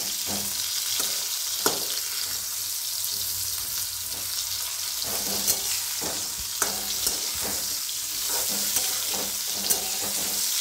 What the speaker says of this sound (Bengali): এটা ভাজা হয়ে গেছে, এবার আমি এটা তুলে নিচ্ছি।